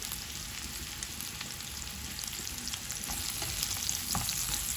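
Sliced mushrooms sizzle and fry steadily in a hot pan, a dense, even crackle with occasional stirring scrapes, close and continuous with no talking.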